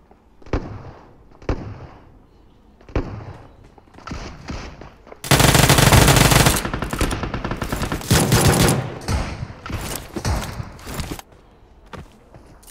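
Gunfire in the PUBG video game: scattered single shots, then a dense, loud stretch of rapid automatic fire and overlapping bursts that thins back out to isolated shots.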